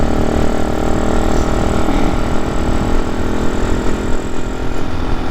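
A Husqvarna FS 550 Supermoto engine rumbles steadily at a constant idle, loud and close, with no voices.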